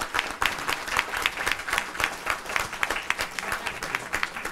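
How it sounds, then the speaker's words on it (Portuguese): Applause at a round-table panel on education, culture and aesthetics, a steady patter of many hands clapping together, moderately loud, with no voices over it. "Uma salva de palmas."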